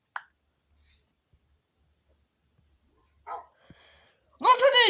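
Near the end, a dog lets out a short, loud burst of barking close by, after mostly quiet stretches broken by a few faint clicks and brief, indistinct voices.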